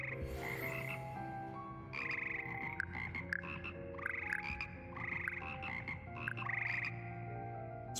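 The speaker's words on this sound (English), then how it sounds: "These magical amphibians can sing in sick part harmony and hold a pitch better than most humans." Magical frog choir from Hogwarts Legacy croaking in sustained, harmonized tones, several pitched voices layered in steady phrases that swell and repeat, loud and close with no talking.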